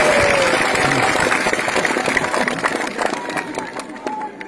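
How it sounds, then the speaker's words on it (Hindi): Crowd at a political rally breaking into applause and cheering, a dense wash of clapping that gradually thins out, with murmuring voices and a faint tone under it. "बताओ सही है, ताली बजाओ।"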